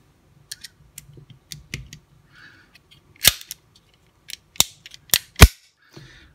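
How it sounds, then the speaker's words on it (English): Bodyguard 380 pistol being put back together, with a scattering of sharp metallic clicks and snaps, loud and close, including several crisp slide and part engagements toward the end. "I'm going to reassemble the pistol completely."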